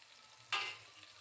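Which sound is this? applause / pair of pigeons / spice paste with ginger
spice paste with ginger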